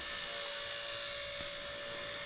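A Blade S3 Nano BNF AS3X miniature remote control helicopter flying close by, with a steady, high-pitched rotor and motor whine that holds evenly throughout.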